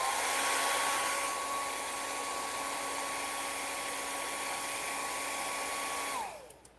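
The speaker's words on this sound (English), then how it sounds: "use your blow dryer, blow it off to the side." A hair dryer blows steadily at close range to clear debris off a tub surface during a bathtub repair, holding a constant whine for about six seconds before it cuts off and winds down.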